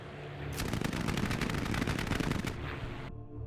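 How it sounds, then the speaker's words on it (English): Machine gun fire as a sound effect, a loud rapid continuous burst lasting about two seconds, harsh and dense, ending abruptly. "Jeffrey was able to approach the Messerschmitt and open fire"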